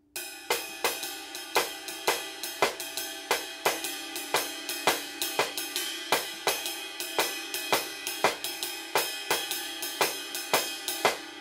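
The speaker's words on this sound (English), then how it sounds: "So that's what the clave on the cross stick sounds like with the Cascara pattern" Drum kit groove with the clave rhythm clicked on the cross stick against a steady cascara pattern tapped on the shell, crisp sharp strikes in an even repeating Latin rhythm, close and unaccompanied.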